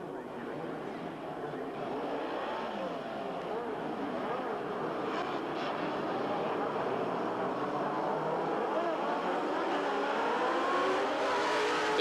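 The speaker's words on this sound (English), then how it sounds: "Both drive 5-liter Frissbes, powered by 550-plus horsepower Chevrolet engines" A field of 1985 Can-Am race cars, 5-liter Frissbees with 550-plus horsepower Chevrolet engines, rolls toward the start at Mosport Park. Their engines roar and build steadily in a loud, sustained drone, with a commentator talking over it.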